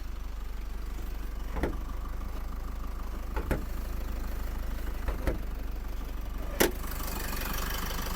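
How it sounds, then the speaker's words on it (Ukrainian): A Renault Koleos engine idles with a steady low rumble, broken by a few brief sharp clicks and knocks. "Робота двигуна."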